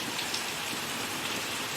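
Heavy rain falls steadily and continuously, a dense close hiss of rain hitting surfaces, with no voices.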